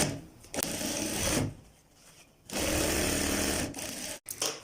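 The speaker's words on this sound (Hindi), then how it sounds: "इस पे हमने अब अपने पैर की सिलाई लगा लेनी है" A sewing machine stitches the sleeve of a child's kurta in close, loud bursts of rapid needle chatter, with short pauses between runs and no talk.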